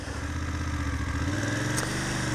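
A motorcycle engine drones steadily while riding a rough road, a close, pulsing mid-pitched growl that shifts slightly in pitch partway through, with a brief high click near the end.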